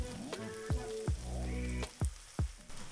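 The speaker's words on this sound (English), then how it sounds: "Stir these together and turn up the heat to get the tomatoes to release their juices." Fresh tomatoes with salt frying in a hot pan for pomodoro sauce give a soft background sizzle. Several sharp clinks and knocks of stirring or tossing ring out, with tonal scraping sounds between them.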